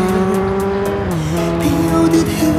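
Tires squeal on a car, a long sustained screech that bends in pitch as the vehicle slows, loud and close over engine noise.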